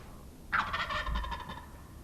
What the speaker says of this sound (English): and then we heard him gobble